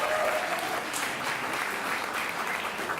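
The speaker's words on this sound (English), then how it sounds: "Can you keep the applause going?" Steady audience applause at a live event, a dense, sustained wash of clapping filling the room at even loudness throughout, with no speech over it.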